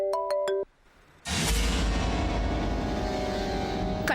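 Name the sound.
phone ringtone of incoming call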